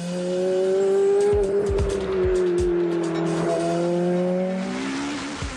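A Ferrari F430 sports car engine (490 horsepower) climbs through the revs, drops briefly on a gear change, then pulls hard again with a rising, loud whine.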